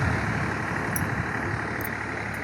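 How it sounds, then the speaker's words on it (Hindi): Traffic on a road at dusk, with vehicles, motorbikes and tractors passing: a steady, fairly close engine and tyre rumble with no pauses and no speech. "सड़क में चलत के गाड़ी मोटर ट्रैक्टर"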